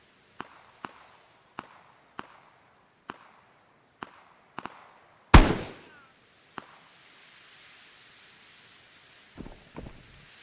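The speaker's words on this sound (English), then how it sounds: "I didn't like how close that grenade was" A grenade explodes nearby in a first-person shooter game: one sudden, loud, close blast follows a run of sharp, evenly spaced footsteps, then fades into faint wind with a few soft shuffles.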